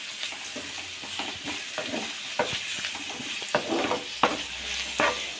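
Chopped onion stirred into bitter gourd frying in a pan, a steady sizzle broken by sharp spatula scrapes and knocks at irregular intervals, close and moderately loud with no talk.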